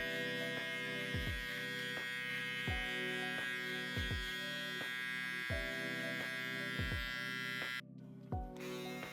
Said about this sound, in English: Now with our foil shaver,